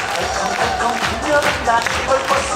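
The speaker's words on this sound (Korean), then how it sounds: "박수를 잘 쳐주시면 제가 선물 드린다는데" Crowd clapping along in rhythm at a children's stage performance of a song, a steady dense patter of hands with scattered voices and cheering mixed in.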